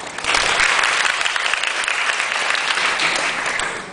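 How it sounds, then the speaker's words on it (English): Audience applause greets a speaker at a lecture on writing academic conference abstracts at Taipei Medical University: dense, steady clapping from a large room that holds for the full four seconds and tapers slightly at the end, with no talking. "let's give us a great applause to our speaker today, Dr. Steve Wallace."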